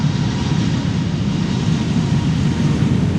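Air Baltic airliner bound for Tallinn taking off at Amsterdam Schiphol, a steady broadband jet roar with a heavy low rumble, loud and continuous with no gaps.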